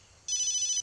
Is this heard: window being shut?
no